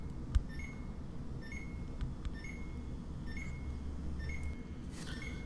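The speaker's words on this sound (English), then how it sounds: "Eventually that ringing noise, it'll go away when you shut the door." Repeated short electronic beeps from the open-door alarm of a Samsung side-by-side refrigerator sound at a steady interval over a low appliance hum, moderately close with no talking.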